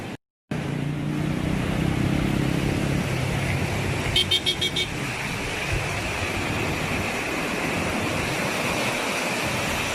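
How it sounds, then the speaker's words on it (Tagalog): Raging floodwater current roaring through the overflowing Pasig floodway during Typhoon Ulysses, a loud steady broadband rush with a brief car horn toot in the middle and no talk. "mapapansin natin na galit talaga itong agos ng tubig dito"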